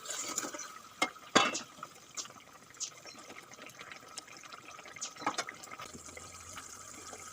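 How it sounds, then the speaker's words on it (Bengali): Tilapia fish curry broth bubbles in a pan, giving a quiet, continuous boiling with scattered pops and a few louder clinks, alone and without speech. "ঝোল ভালো করে ফুটে গিয়েছে দেখুন"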